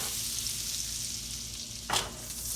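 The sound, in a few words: shrimp frying in hot butter in a pan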